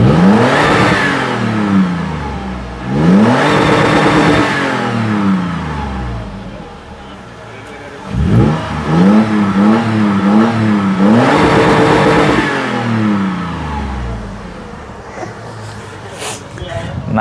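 A Toyota FJ Cruiser's 4000 cc naturally aspirated petrol engine revs repeatedly, each loud rising-and-falling surge close by, with a brief quieter idle between bursts and a crackle near the top of the revs.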